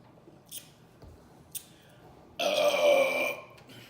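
Two short faint sounds come first, then a single loud, drawn-out burp from a person who has been drinking Jarritos sodas, heard up close for about a second with no talking.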